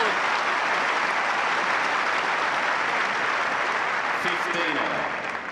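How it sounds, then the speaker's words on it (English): Sustained crowd applause fills a Wimbledon Centre Court-style tennis match between Katie Boulter and Harriet Dart, a dense steady wash of clapping throughout that tapers slightly near the end. "Even Boulter has to applaud."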